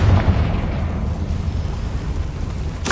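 A Confringo spell blast in Hogwarts Legacy, a loud booming burst that fades into a rumbling tail, followed by a sharp new crack at the end.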